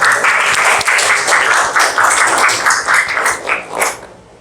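Classmates applauding presenters in a classroom, a loud close burst of many hands clapping in a quick uneven rhythm that keeps going for several seconds and then drops off abruptly.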